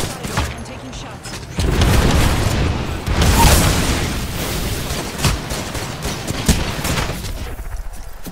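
Dense video game gunfire in a shooter, loud overlapping bursts and heavy booms rolling on for several seconds, with game voice lines over the shooting.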